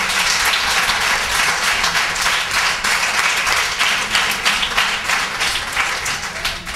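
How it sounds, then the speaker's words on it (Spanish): Steady applause from families at a youth football awards ceremony for a UD Roteña under-8 team, dense clapping sustained at an even level throughout with no talking. "le pido un aplauso"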